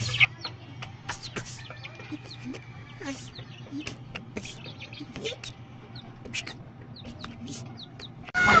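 Bantex rooster and hens cluck and peck in a pen, with scattered short clucks and calls, some overlapping, amid low background hum and faint rustling.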